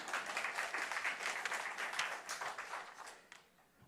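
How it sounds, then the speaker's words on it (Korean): Dense audience applause, many hands clapping steadily and fairly close, then gradually thinning out and fading toward the end. "우리 기자한테 박수 한번 칩시다."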